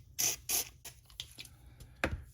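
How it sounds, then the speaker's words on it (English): Lithium grease sprayed from an aerosol can into the weatherstrip channel of a Fox-body Mustang with T-tops: two quick, close hissing bursts, followed by faint rubbing and handling noises. "I'll spray a little bit of lithium in there"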